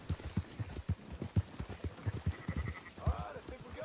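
Sheep bleat beside a horse ridden at a steady clip-clop in a Western video game, hooves thudding in an even rhythm with a bleat near the end, faint under the action.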